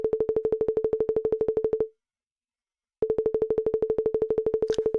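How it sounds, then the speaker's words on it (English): Sonification tones from MRI pathology slices in a web demo: a rapid train of identical short beeps at one steady pitch, pausing for about a second before the same pulsing resumes, loud and clean with no talk. "The sonification is pretty annoying."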